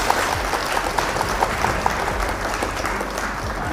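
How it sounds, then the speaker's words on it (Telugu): Sustained applause from an audience welcoming a retiring employee at an office retirement function, a dense steady wash of clapping hands filling the room for several seconds with no talk over it. "ఆమెకు అందరూ చప్పట్లతో ఘనంగా స్వాగతం చెప్తారు"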